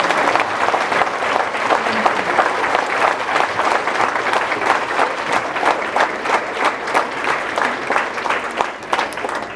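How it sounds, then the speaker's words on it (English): Sustained applause from a crowd at a school academic excellence awards ceremony at Challenger Ardenwood campus, dense steady clapping filling the room for nearly ten seconds with no one speaking. "Let's give a big round of applause"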